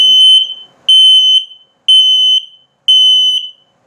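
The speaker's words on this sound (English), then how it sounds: "and then of course LP or low battery alarm" Four loud, steady electronic beeps from a carbon monoxide and LP gas alarm self-test in a 2021 Heartland Torque 373 RV, each lasting about half a second with short gaps, sharp and high-pitched, no one talking.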